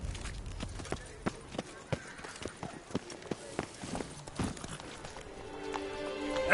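Roach, the horse in The Witcher 3, clip-clops along in a steady trotting rhythm of close hoofbeats, fading as a musical tone rises near the end.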